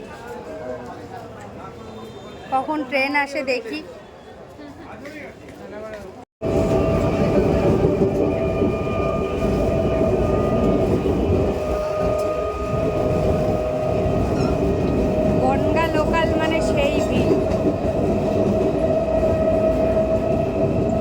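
A train pulls in with a loud, sustained rumble and rattling wheels after a brief stretch of quiet ambience and distant voices.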